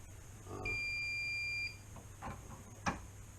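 A powder scale's buzzer gives a single steady electronic beep for about a second, signaling an overweight charge, followed by a few faint clicks and taps in an otherwise quiet room.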